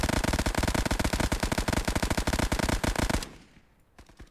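Rapid bursts of gunfire from British handguns in the video game Resolve, loud and closely spaced shots for about three seconds, then cutting off into a faint tail.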